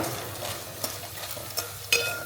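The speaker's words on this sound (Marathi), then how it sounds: "व्यवस्थित भाजून घ्यायचा पहिले तर हे बघा छान तळल्या गेलेला आहे हा डिंक" Soft continuous sizzling and crackling of edible gum frying in a pan, with a few light clicks of stirring, no voices.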